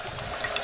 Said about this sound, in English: turn on the water, goes through the machine